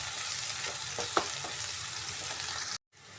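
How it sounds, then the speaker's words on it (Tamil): Ginger and green chillies sauté in a pan for a bitter gourd poriyal with a steady, moderate sizzle. A few soft stirring clicks come through before the sound cuts out briefly near the end. "இஞ்சி, ஒரு கட் பண்ண பச்சை மிளகா, இதனெல்லாம் வதக்கணும்."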